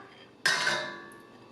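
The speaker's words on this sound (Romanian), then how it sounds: "Amestecăm bine cu un tel." A metal whisk strikes a pot holding egg yolks and sour cream for a Greek-style chicken soup, giving one sharp clank that rings and fades, with no talking.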